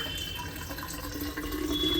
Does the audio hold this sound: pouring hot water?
yes